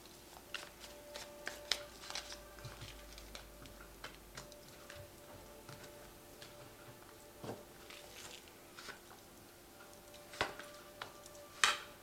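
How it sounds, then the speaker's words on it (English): Faint close-up tarot card handling: soft slides, flicks and light taps as cards are drawn from a shuffled deck and placed, with quiet pauses between them. "So I have shuffled this deck. I'm just going to draw some cards from it."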